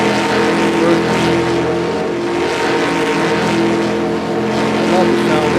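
1971 GTX NASCAR race car engine droning loud and steady, a rough continuous growl holding nearly constant pitch, with a voice over it.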